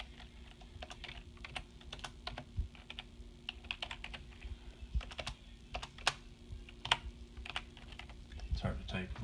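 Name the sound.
typing on a computer keyboard with one hand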